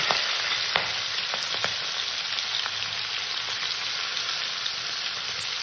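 Giant freshwater prawns fry lightly in hot oil in a wok, giving a loud, steady, close sizzle with scattered small crackles throughout and no talking.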